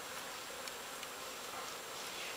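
Honey bees hum in a continuous, faint, even drone during a colony cutout in Monument Valley, with no voices heard.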